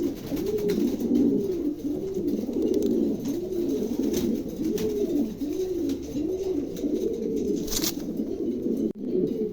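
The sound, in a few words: pigeons cooing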